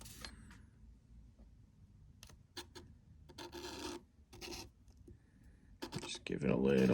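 Small slot car motor brushes are rubbed on 2000 grit sandpaper, giving short, faint, scratchy rasping strokes in separate bursts amid quiet pauses.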